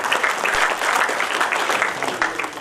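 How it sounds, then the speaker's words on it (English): An audience at a Karaikudi cricket team launch breaks into applause, a brief, steady burst of dense clapping, close and even in loudness from start to finish. "everybody to give a standing applause"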